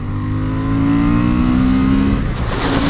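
Honda CB750 Hornet motorcycle accelerating hard in third gear, its engine note climbing steadily and loud from close by, with a brief break near the end.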